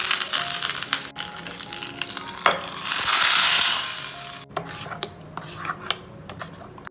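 Mustard seeds, urad dal and curry leaves crackle and sizzle in hot oil for a small-onion chutney. The sputtering swells to a loud burst midway, then eases into lighter popping and clinks of a pan.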